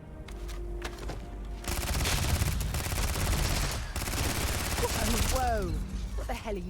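Gunfire in the game Starfield, a few scattered shots before a sustained rapid automatic barrage breaks out, pausing briefly then resuming loud and close, with ricochet-like whines near the end.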